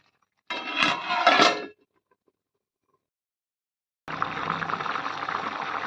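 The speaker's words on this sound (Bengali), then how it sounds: "দেখো বন্ধুরা, সবজির জল কিন্তু ভালো করে ফুটে গেছে।" Vegetable water for an okra and fish curry bubbling hard in a pot on the stove: a short clattery burst first, then after a pause a steady, dense hiss of boiling that runs on to the end.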